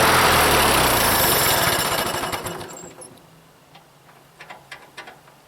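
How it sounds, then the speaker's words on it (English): A Ford 8N tractor engine runs with a loud, rapid mechanical chug that fades away and stops as it is shut off, followed by a few faint clicks. "I'm going to shut it off and see if I can start it again without starter fluid."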